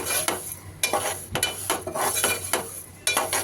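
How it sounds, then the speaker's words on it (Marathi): Grain flour is roasted with ghee in a pan over low to medium gas for homemade baby cereal, with repeated scraping stirs and light clinks of a spoon against the pan over a soft sizzle, close up. "आता भाजत आल्यावरती तूप टाकावे। आता याकडे भाजत आले आहे।"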